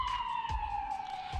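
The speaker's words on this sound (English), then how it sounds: "Sorry, I was waiting for the siren to pass." An emergency siren passing by outside during an indoor conversation, a steady wailing tone that slowly drops in pitch, moderately faint and heard alone with no talk.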